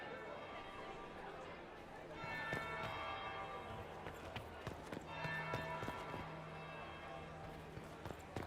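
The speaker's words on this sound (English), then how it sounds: "That would be the second bell." A church bell tolls in the video game Dragon Age Inquisition, its ringing tones sounding several times beneath ongoing character dialogue and ambient game sounds.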